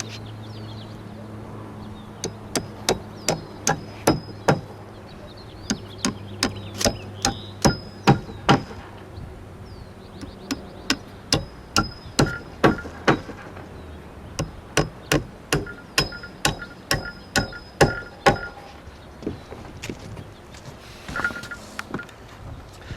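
A hammer tacks a 4x6 roof rafter beam in place, delivering many sharp, ringing strikes in steady bursts with brief pauses between, close and loud with no talk.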